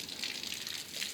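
Steady rushing spray of water rinsing the last soap off the hood of a Porsche GT3 during a detailing wash, a close, continuous hiss with no pauses.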